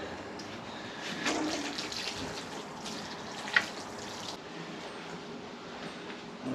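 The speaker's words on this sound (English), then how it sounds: "So just going to keep slowly adding water till we get to that point." Water slowly poured into a lawn soil mix for patching bare spots, a soft continuous trickling wash close by, with one brief sharp knock partway through and no talking.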